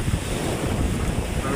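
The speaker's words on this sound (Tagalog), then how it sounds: "biglang lumakas ang hangin. Namuti na din yung alon" Strong wind roars steadily across the microphone over the rushing wash of whitecapped waves at sea as a storm approaches, a continuous loud buffeting with no voices.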